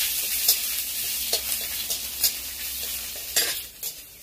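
Chopped onions sizzling in a pan with panch phoron tempering while being stirred, a steady frying hiss broken by short scraping strokes of the spatula against the pan, close and fairly loud with no talking.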